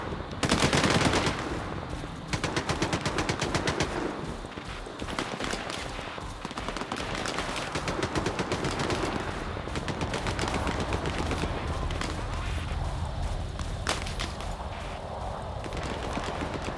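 Rapid gunfire in STALKER 2, dense bursts of automatic shots rattling almost continuously for the whole stretch, loud at first then slightly more distant, with no speech over it.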